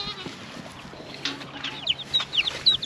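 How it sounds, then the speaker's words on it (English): Baby chicks peep and chickens cluck in a farm shop, with faint high chirps growing more frequent toward the end over quiet indoor background. "So there's the baby chicks."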